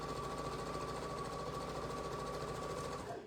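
A sewing machine stitching a half square triangle of quilting fabric, running at a steady, rapid, continuous whirring rhythm up close, then stopping at the end; no talking.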